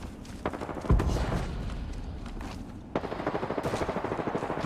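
Automatic gunfire in the video game Apex Legends, rapid rhythmic bursts of shots with a heavy thump near the start, continuing in dense volleys throughout at close range.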